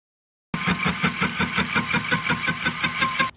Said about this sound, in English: As you can tell from the sound, it's not cutting evenly